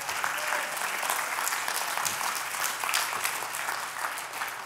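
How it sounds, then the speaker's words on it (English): A church congregation claps and applauds, steady, dense hand clapping filling the room at moderate volume, continuing evenly without talk. "y'all give the Lord a real hand clap"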